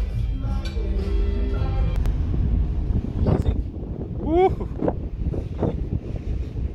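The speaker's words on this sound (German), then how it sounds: "Eisiger Wind." Icy wind buffets a microphone on the deck of a large passenger ferry, a continuous low roar with gusts, while a voice speaks briefly over it.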